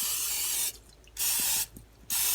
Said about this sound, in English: I'm going to take this olive oil and I am going to spray the cauliflower